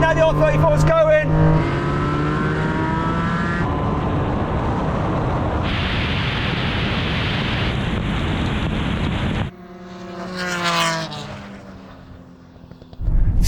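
A Nissan Skyline R34 accelerates hard in a drag race against an NSX and a Supra, loud engine roar climbing through the revs amid wind noise and excited commentary, then fading away into the distance.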